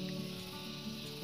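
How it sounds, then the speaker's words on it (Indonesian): Cicada (tonggeret) calling as a steady, continuous buzzing drone that holds evenly through the whole moment, fairly faint and with no voices over it. "Kan itu suara Tonggeret itu."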